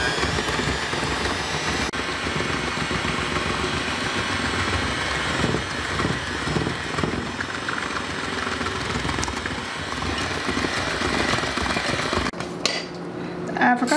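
Boxed Betty Crocker cake batter being mixed with water, oil and eggs, likely with an electric mixer, producing a continuous whirring hum and sloshing for over ten seconds with a few bowl clinks before it stops.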